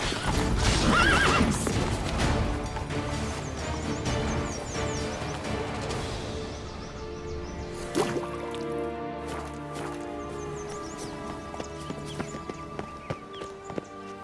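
Roach, Geralt's horse in The Witcher 3, lets out a loud, close whinny followed by snorting, then steady clip-clop hoofbeats that continue to the end alongside game sounds.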